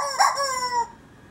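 A chicken gives one drawn-out, wavering call lasting under a second, close and clear with nothing else around it, then quiet follows.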